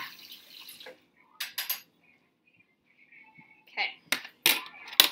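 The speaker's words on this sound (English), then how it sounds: "I'm gonna rinse off my fork." Fork rinsed under a running tap while mixing homemade paint: short splashes and metallic clinks come in scattered bursts, close and fairly quiet, with gaps between them.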